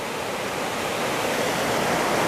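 Spetch Creek flowing through a mossy forest, a steady, loud, broadband rush of moving water heard close and alone.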